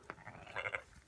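Sheep bleat faintly in a brief moment, a couple of short wavering calls from nearby livestock over a low outdoor background.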